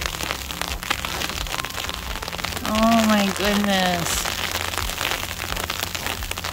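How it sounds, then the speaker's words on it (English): Freezing ice rain during an ice storm drums on an umbrella held close, making a loud, dense, continuous crackling patter. Partway through, a voice briefly exclaims over it. "the noise of this ice rain hitting this umbrella is loud"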